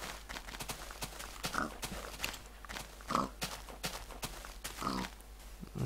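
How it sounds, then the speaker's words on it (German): A pig in Minecraft gives a few short grunting oinks at intervals over a quiet backdrop of soft footsteps and clip-clop sounds, fairly faint overall. "Schweinchen, ne?"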